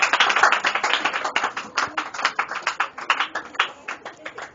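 A church congregation claps and cheers in acclaim for Jesus, dense rapid handclaps forming a loud, steady burst of applause that gradually thins into scattered, rhythmic claps.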